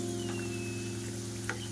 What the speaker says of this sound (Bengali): তেল হালকা গরম হয়ে আসলে গুজিয়া গুলো দিয়ে দেবো